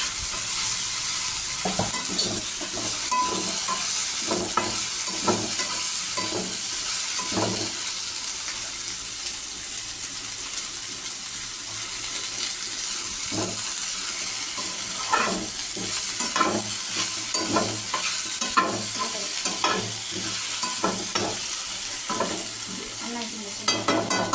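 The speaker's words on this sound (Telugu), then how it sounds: "ఇక్కడ టేస్ట్కి సరిపడా కారం, ఉప్పు కలుపుతుంది మా అమ్మ." Okra grown at home being stirred in a pan with chilli powder and salt, producing a steady sizzle broken by repeated scraping strokes of a spoon, with water-like splashes at times and no one talking.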